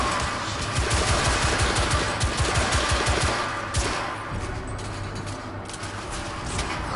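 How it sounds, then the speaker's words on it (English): A thermite gun in The Order 1886 fires in a rapid, rattling burst during the first half, then the shooting fades into a quieter rumbling game ambience. "So there's a thermite gun, you see?"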